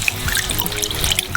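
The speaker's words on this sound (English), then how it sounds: "Pour in the milk," Milk poured into a frying pan of melted butter and flour, a short close liquid trickle and splash with faint sizzling underneath.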